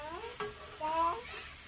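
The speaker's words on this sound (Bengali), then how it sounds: "নেড়ে নেড়ে এটাকে আমি সুন্দর করে ভেজে নেব" Bitter gourd with chilies being stirred as it fries in a pan, a soft sizzle under brief scraping strokes, quiet and close.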